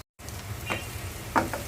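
Bitter gourd (karela) sizzles and fries in a pan with a steady crackling hiss, broken by a couple of brief stirring scrapes; no one speaks.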